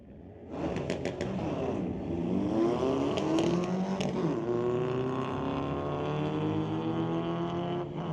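A 2023 Hyundai Elantra and a 1971 Volkswagen Beetle launch side by side at a drag strip, engines revving hard and rising through gear changes, loud and continuous with no talking.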